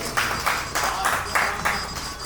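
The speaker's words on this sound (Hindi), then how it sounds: "वर और वधू को तालियां से आशीर्वाद देते हैं" Wedding guests clap together to bless the bride and groom, a short burst of rhythmic group applause in steady beats, moderately loud and fairly close.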